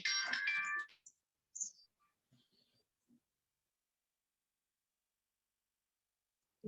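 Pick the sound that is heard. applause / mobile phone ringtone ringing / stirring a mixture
mobile phone ringtone ringing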